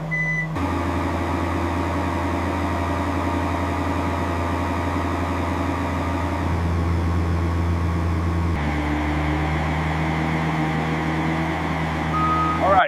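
A 1918 Ahrens-Fox fire truck is being slowly backed up in a junkyard, a steady engine idle droning loud and continuous beneath a faint repeating reverse beep.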